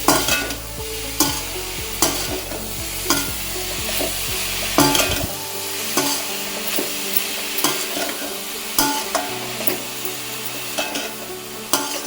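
Grated carrots and sugar sizzle in a pan as they are sautéed for carrot halwa, with a spoon scraping and stirring in regular strokes, close and clear.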